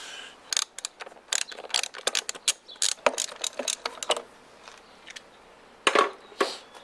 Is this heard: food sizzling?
no